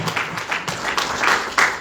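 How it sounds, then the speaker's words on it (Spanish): A church congregation applauds during a sermon, a moderate wash of clapping with a few brief voices or cheers rising above it at intervals. "Den un aplauso al Señor."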